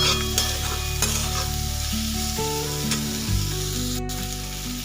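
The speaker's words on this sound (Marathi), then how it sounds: "शेंगा पण आपल्याला त्याच्यामध्ये घालून व्यवस्थित मिक्स करून घ्यायच्या" Boiled flat bean pods (val shenga) being stirred into a spiced mix in a frying pan, a steady close scraping and stirring over a continuous sizzle throughout.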